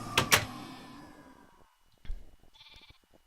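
Sheep bleat in a modded Minecraft world, two sharp close bleats followed by fainter game clicks and a short chime, with no one talking.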